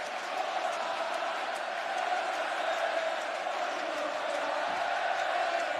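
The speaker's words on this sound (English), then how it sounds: "there's a good performance by the crowd as well, as you can imagine" Stadium football crowd at Camp Nou during Barcelona versus Madrid, singing as one: a steady, wide, distant roar of massed voices holding a sustained chant without breaks.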